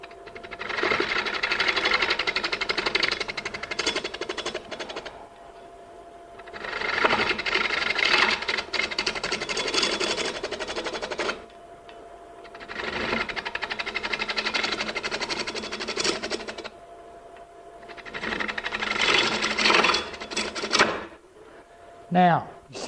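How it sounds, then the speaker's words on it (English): Spindle gouge shearing wood on a lathe during furniture turning, a steady scraping whir in four long passes separated by brief pauses, with a voice talking at times. "Now I can also use just my regular spindle gouge."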